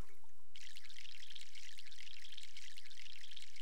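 A plant is watered in the video game My Sims, giving a steady splashing pour of water that starts after a short pause and runs continuously, close and fairly loud, over a soft repeating musical beat.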